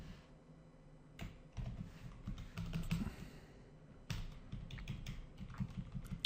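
Computer keyboard typing while entering code, a steady run of quick close key clicks with short pauses, rising into denser bursts of keystrokes, with no voice.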